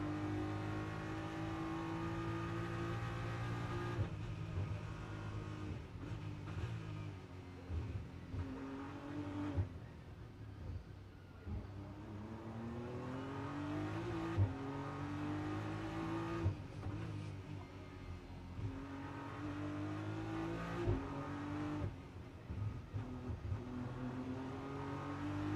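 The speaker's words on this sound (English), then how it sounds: "and a great noise from the BMW." A BMW race car engine at the Macau Grand Prix street circuit accelerates through the gears on the climb up San Francisco Hill, loud and continuous with rising pitch sweeps and shift breaks, heard from trackside without talk.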